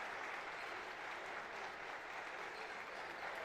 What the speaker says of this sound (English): helped to his feet now to a loud round of applause.